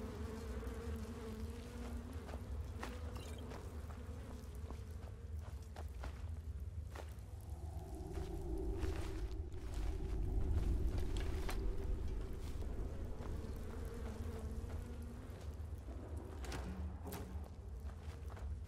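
A spriggan in the Skyrim video game buzzes steadily like a swarm of bees, a continuous low drone with faint scattered clicks and footsteps, swelling slightly mid-way.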